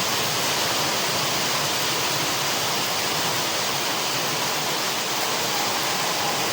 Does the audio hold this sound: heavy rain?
yes